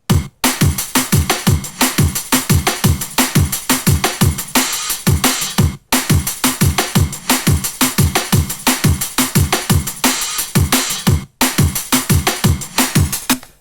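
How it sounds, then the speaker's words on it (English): Electronic dance drums playing alone, a steady punchy kick drum thumping on every beat with bright hi-hat and percussion on top, looping in regular bars with brief breaks between repeats. "So the drums on their own sound like this."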